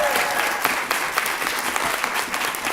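Audience at a press conference applauds loudly and steadily, a dense wash of many hands clapping nearby without a break.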